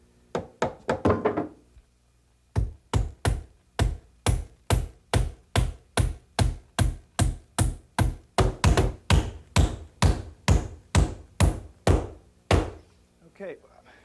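A hammer spikes nails into wooden studs: a quick burst of blows, a pause, then a long steady run of about twenty sharp, evenly spaced hits, loud and close, with no talking over it.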